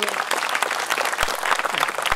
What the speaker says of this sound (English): Can we have a big round of applause again for Rahul?